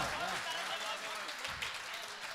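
Audience applause at a Hindustani poetry gathering (mushaira), a dense, steady wash of many hands clapping throughout, mixed with crowd noise and some voices.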